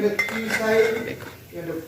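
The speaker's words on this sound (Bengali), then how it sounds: "এবারে আমরা ঢাকনাটা খুলি" The metal lid of a home pressure cooker holding chicken stew is taken off, making close clinks and scrapes of metal on metal over about two seconds, with some faint background sound.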